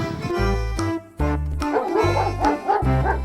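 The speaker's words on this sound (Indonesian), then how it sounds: "ada hewan anjing putih teman-teman" A white toy dog gives a series of electronic barks in quick repeated bursts, close and loud, with short pauses between the yaps.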